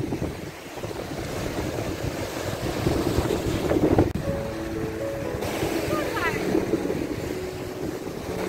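Steady broadband rush of surf and wind on an open shore of the Hel Peninsula on the Gulf of Gdańsk, constant and fairly loud, with some faint tonal sounds and a brief murmur in the background.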